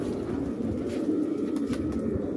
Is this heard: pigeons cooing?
yes